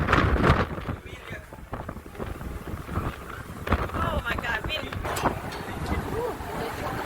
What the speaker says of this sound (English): Oh my God, wind.